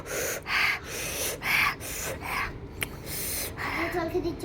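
A child gasps and breathes sharply after eating a very spicy potol curry in a home kitchen, with several close, airy breaths and snorts in uneven bursts, near and fairly quiet.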